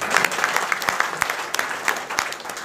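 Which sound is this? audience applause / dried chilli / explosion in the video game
audience applause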